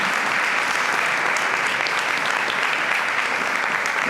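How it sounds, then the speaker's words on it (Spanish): Loud, dense applause from a large church congregation welcoming a pastor, a steady wash of clapping that holds evenly throughout without pause. "Le damos un fuerte aplauso de bienvenida."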